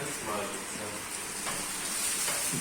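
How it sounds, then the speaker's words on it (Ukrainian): Turkey khashlama fries in a pan with a steady, close, continuous sizzle and crackle, and a voice briefly speaks over it. "зверху і нехай насмажиться"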